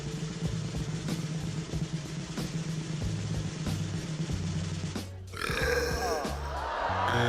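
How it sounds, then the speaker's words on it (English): A man belches loudly and repeatedly during a burping competition audition, long guttural burps over steady crowd murmur, ending with a change to a brighter, noisier scene. "If you've ever had a burping competition with your buddies after drinking a can of your favorite soda"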